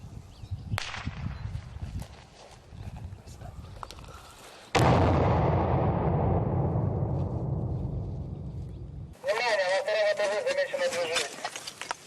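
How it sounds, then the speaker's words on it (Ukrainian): A grenade thrown into a basement during a military assault in Horlivka detonates with a loud, sudden boom that decays over several seconds, preceded by rustling movement and followed by close gunfire bursts. "Підвал оминають стороною, але про всяк випадок туди жбурляють гранату."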